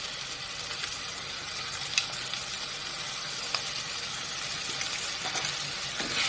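Chopped onions with ground spice paste frying in a pan for stuffed pointed gourd, giving a steady, close sizzle with a few faint clinks from stirring, and no voices.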